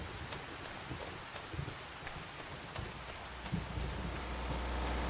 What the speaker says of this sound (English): So I hope this rain stops here soon.